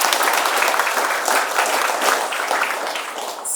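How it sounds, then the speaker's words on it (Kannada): An audience at a dance workshop in Kodur claps steadily and loudly for several seconds, a dense, even wash of applause with no talking over it. "ಚಪ್ಪಾಳೆ ಹೊಡೆಯೋದು ಬೇಡವಾ?"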